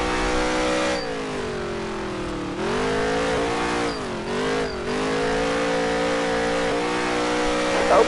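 A NASCAR stock car engine in the NASCAR Heat 3 racing game, on the Las Vegas track, roars steadily and loud, its pitch rising and dipping with throttle lifts and reacceleration, with faint tire squeal near the end.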